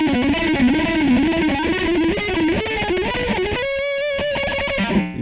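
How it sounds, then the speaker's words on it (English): Electric guitar picked hard, the pick digging deep into the strings, plays a fast continuous run of distorted notes, then a few sustained chords near the end, loud and close with no talk. "You can even hear a little bit more of a pick sound because I'm just digging a little bit deeper into my strings with my pick."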